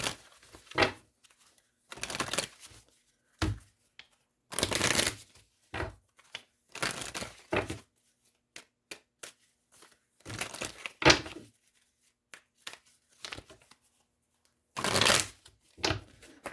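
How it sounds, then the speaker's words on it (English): Tarot cards being shuffled by hand in quick, dry riffling bursts separated by brief pauses, close and fairly quiet, with no talking. "Let's go ahead and pull some cards for you guys."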